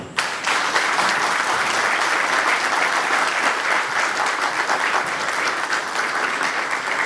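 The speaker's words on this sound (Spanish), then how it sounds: "Un aplauso para ellos." Steady, dense applause from an audience greets the graduates at a 2012 graduation ceremony in Melgar, filling the whole stretch loudly and without pause.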